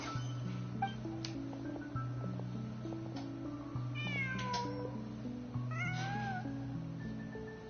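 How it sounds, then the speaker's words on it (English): A cat in the Genshin Impact video game meows several times over a steady, looping musical background, with the meows rising and falling clearly above the tune. "Just a cat."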